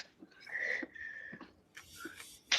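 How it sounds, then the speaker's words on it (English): Heavy, wheezy breaths rasp in and out close by in an uneven rhythm, with a few faint voiced bits between them. "A lot of heavy breathing."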